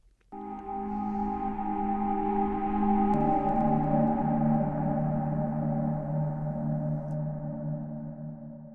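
A sustained tonal chord swells in and lingers, smeared by heavy, washy large-hall reverb that blurs into a long ringing tail, with a shift in pitch midway.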